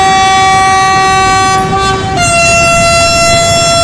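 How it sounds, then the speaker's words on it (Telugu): A train sets off on the Visakhapatnam route in the Trainz Simulator mobile game, sounding a loud, sustained multi-tone horn that steps down in pitch midway and keeps blaring. "మన ట్రైన్ అయితే బయలుదేరుతుంది"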